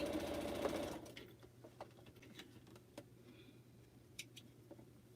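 Home sewing machine stitching pineapple quilt blocks runs in a fast whirring burst for about a second, then stops, leaving quiet handling clicks and faint taps.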